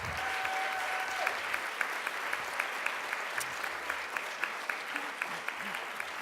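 An audience at a school board meeting applauds a student team, many hands clapping in a steady, even stream for about six seconds, with a brief voice faintly audible at the start.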